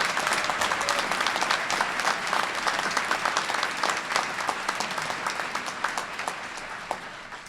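Graduation audience applauding international students, a crowd of hands clapping steadily with individual claps standing out, easing slightly toward the end.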